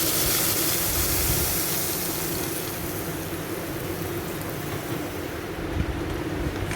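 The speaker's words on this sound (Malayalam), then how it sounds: "കടുകും വറ്റൽമുളകെല്ലാം ഇട്ട് പൊട്ടിച്ച്" Mustard seeds and dried chillies splutter and crackle in hot oil for chutney tempering, a dense, loud, continuous sizzle with fine popping throughout and no talk.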